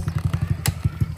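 An enduro trail motorcycle engine fires up and settles into a rapid, uneven low putter with a clattering, thumping pulse, close to the microphone; no talk over it.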